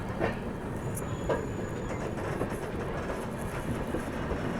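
The Howrah Rajdhani express rolls along as heard from inside a 2nd AC coach, a steady muffled rumble with faint rhythmic clatter of wheels and a brief high whine partway through.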